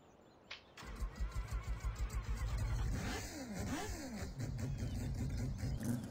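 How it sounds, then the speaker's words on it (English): A super car engine in Farming Simulator 17 revs in a run of quick, evenly pulsed bursts, then settles into a loud, sustained roar with rising and falling pitch sweeps, close and alone with no talk. "First, let's hear it revved engine."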